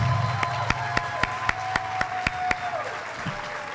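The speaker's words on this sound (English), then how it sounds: "Let's give it a round of applause for Anthony Dean Harris" Applause at a PechaKucha San Antonio event as Anthony Dean-Harris is introduced, heard as about ten evenly spaced crisp claps over a faint steady room hum.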